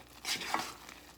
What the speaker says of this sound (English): so I'm going to just stir this down until it stops boiling